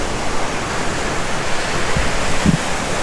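Surf at Nimitz Beach on Oahu makes a continuous, broad wash of noise, steady and fairly loud, with no distinct individual wave breaks standing out.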